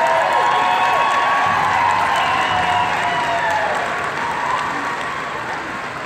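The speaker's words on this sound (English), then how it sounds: "Give them a round of applause." A large crowd applauds steadily at a pow wow gathering, a dense wash of clapping that holds strong and then slowly tapers off.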